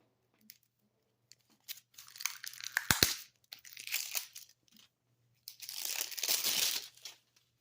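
Blue painter's tape handled at close range in short bursts of crinkling and tearing, with quiet gaps between them and a longer rustling stretch near the end.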